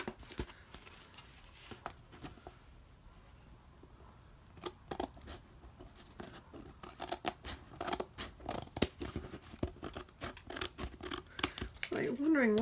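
Scissors snip repeatedly through the paper pocket pieces of an upcycled envelope journal, a string of close, crisp cuts and rustles, with a voice talking briefly near the end.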